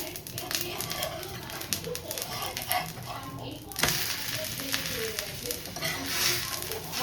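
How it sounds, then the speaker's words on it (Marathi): Dosa sizzling and crackling on a hot pan over medium gas, a steady close frying hiss with clatter as it is flipped midway, light background voices. "गाईज आता आपण आपला ढोसा ना पलटी करूया"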